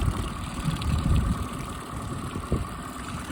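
Yamaha 9.9 High Thrust four-stroke outboard motor idling on the water, a quiet, steady low putter heard close with faint wind or water noise, no voices.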